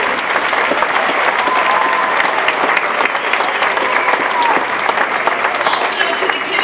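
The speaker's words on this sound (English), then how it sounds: "So let's give them a round of applause for their hard work." Loud, dense applause from a crowd at a kindergarten and first-grade winter concert in Bryan, Ohio, continuous many-handed clapping filling the room with a faint murmur of voices underneath.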